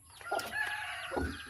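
Pet chickens just fed, clucking and calling at close range, overlapping bursts with a brief crow-like note, chicks nearby, no talk.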